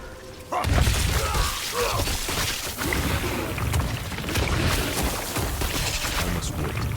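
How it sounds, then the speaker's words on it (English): Plague explosions go off repeatedly in Diablo 4 combat, a dense, continuous barrage of booming, shattering blasts and impacts that stays loud and busy throughout. "God, he just spams those plague explosions."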